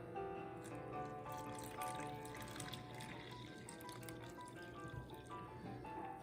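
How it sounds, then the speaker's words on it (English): Warm water pours steadily into a bowl of dough ingredients for Moroccan khobz flatbread, a continuous soft splashing trickle at close range. "And then we add 1 1/4 cups"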